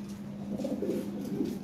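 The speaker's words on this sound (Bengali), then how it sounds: "এই এক পেয়ার কবুতর আছে দেখেন" Soft, steady cooing from a pair of caged Lahori pigeons of golden dun colouring, close by and continuous at moderate volume with no talk.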